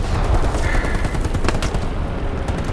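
Machine gun fire in Hell Let Loose, a loud continuous rattle of rapid shots from an MG position in the trenches, steady and dense with no pauses.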